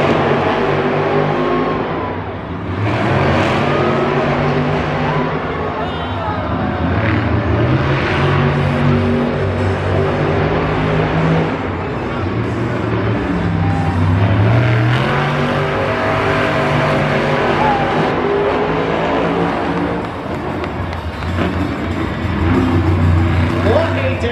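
Monster trucks racing at a Monster Jam show in San Francisco, engines roaring and revving continuously in a large arena with crowd noise, while an announcer talks loudly over the whole stretch.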